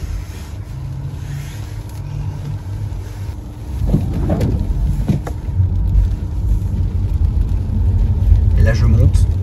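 Rear-wheel-drive Tesla on winter tyres climbing a snowy slope, a steady low rumble of tyres and motion that grows slightly louder partway through, with someone talking over it.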